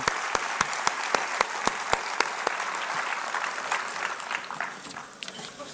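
Audience applause at an international economics conference, opening with a few sharp, distinct claps that quickly swell into steady, moderate clapping from the crowd, then taper slightly toward the end with no talk over it.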